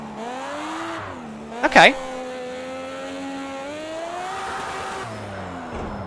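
A Mazda MX-5 drifting in the Project CARS 2 racing game, its engine note rising and falling steadily with a brief sharp tire squeal near the start, under a man's short spoken word.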